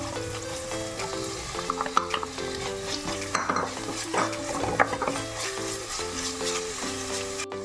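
Fennel seeds, crushed ginger, garlic and green chillies sauté in a pan for a Kerala-style roasted chicken curry, with a continuous soft sizzle. A spoon scrapes and clinks against the metal pan in irregular strokes throughout.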